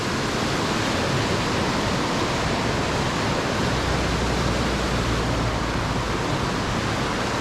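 Water pours steadily down a concrete-lined waterfall in the Sogicheon valley, a loud, continuous broadband rush with no pauses and no voices, close and filling the whole span.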